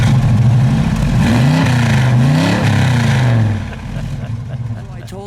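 A 1967 Chevrolet Camaro RS SS with a 350 V8 and four-speed revs loudly up and down several times, then settles back to a rough idle, with people talking nearby.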